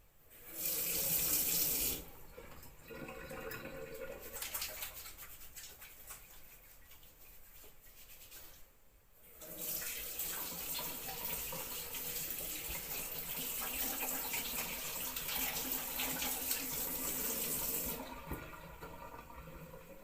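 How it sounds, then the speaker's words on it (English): Hands are washed under a running kitchen tap: water gushes loudly, splashing and rubbing against skin, with a brief pause near the middle before the stream resumes and runs on steadily until it shuts off. "before we knead it together, we're going to wash our hands clean."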